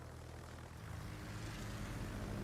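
Steady droning roar of a propeller plane engine in a World War II D-Day video game mission, a continuous low rumble with a broad hiss that swells slightly toward the end, with no voices.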